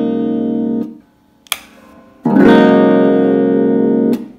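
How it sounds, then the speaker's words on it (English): Electric Fender/Squier Jaguar guitar with both pickups wired in series, one sustained chord cut off, a pick scrape, then a louder, thicker chord that rings before being muted, close and alone. "So that's your kind of pseudo humbucker kind of sound."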